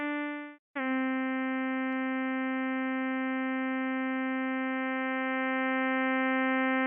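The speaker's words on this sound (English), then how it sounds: "Yeah, I'm hearing more sawtooth." A Pure Data software synth sustains a steady buzzy tone as more sawtooth oscillator is mixed in, rich in bright harmonics, after a brief purer tone and a short gap; loud, continuous and alone.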